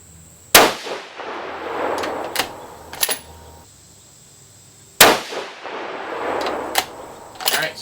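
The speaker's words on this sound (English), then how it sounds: "let's see how these bullets shoot" Two loud, sharp reports from a 6.5 Creedmoor rifle firing 120-grain Speer Gold Dot bullets, magazine-fed, about four seconds apart, each followed by a short ringing decay and metallic clicks from the action.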